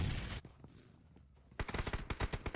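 Gunfire in the mobile battle royale game BGMI during a tournament match: a burst of shots, a lull, then rapid automatic fire in a fast rattling string, loud and close.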